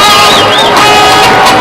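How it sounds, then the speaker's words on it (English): A large football crowd at a night game against St. Ambrose gives off a loud, steady roar and cheering that fills the whole moment without a break. "Great crowd on hand here tonight"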